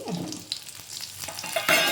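Tomatoes sizzle in a hot pan while they are stirred, with scraping and light crackling throughout and no talking.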